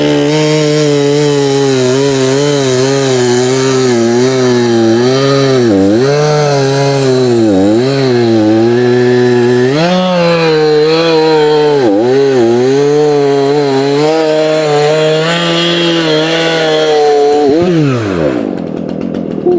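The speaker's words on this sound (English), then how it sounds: "Just got this saw yesterday, so let's put it to the timber test." A newly bought chainsaw cuts through hard timber, its loud engine droning close by for the whole stretch. The pitch sags and recovers several times as the chain bites and frees in the wood, then the engine winds down at the end.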